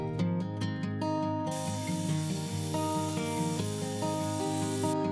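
A bandsaw resawing hardwood stock of different species to thickness, a steady loud mechanical whine with a rasping, grinding cut that thickens into a bright hiss partway through.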